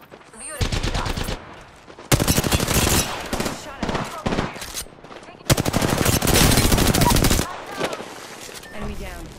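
Automatic weapon fire in Apex Legends comes in two long, loud sustained bursts plus a shorter one at the start, rapid and sharp, with short gaps of quieter game sound and voices between.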